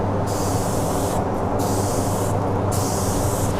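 A spray gun lays wood stain onto a chair seat in a furniture shop, a loud, steady hiss broken by brief pauses as the trigger is released three times, with no voices.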